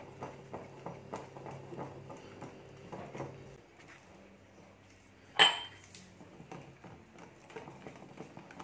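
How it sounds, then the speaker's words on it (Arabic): A spoon stirs chocolate cake batter in a bowl with soft rhythmic scrapes and clinks, close and fairly quiet, broken by one louder knock partway through. "كنبقاو نحركو حتى كيتجانس الخليط مزيان"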